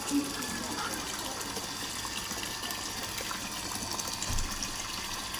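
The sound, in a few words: running tap water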